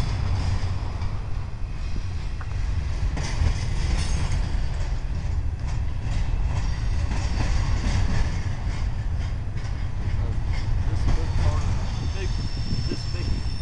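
An intermodal freight train rolls past in Roanoke, a continuous heavy low rumble with faint clacking of wheels over rail joints, steady and fairly close, while people talk over it.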